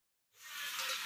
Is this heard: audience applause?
no